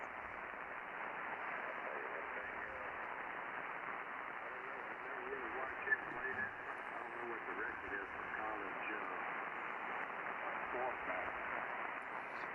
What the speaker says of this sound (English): if we introduce more mid, we're going to get more of the static. Hear it?